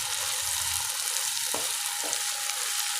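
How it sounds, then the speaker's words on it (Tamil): Onions and tomatoes sautéing in a pan for dry anchovy thokku, a steady, close hiss of sizzling oil with a couple of soft stirring scrapes and no talking. "நல்லா வதக்கிக்கோங்க."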